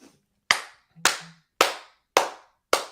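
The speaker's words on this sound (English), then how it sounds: "We're getting the baby face clap going." Five crisp, loud hand claps, close and evenly spaced at a slow, steady beat, with brief silence between each one, given as a baby face clap by a host on a pro wrestling talk show.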